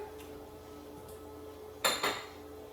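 An apple-shaped crystal sugar bowl being handled, giving two quick close glassy clinks in a quiet room after a stretch of near silence.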